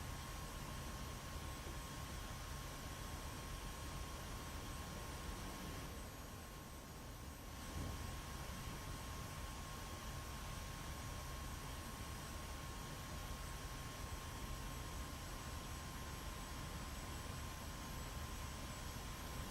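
F-86 Sabre jet accelerating down the runway for takeoff in the DCS flight simulator, a steady roaring jet engine drone with a constant high whine, briefly dipping midway before returning to full power.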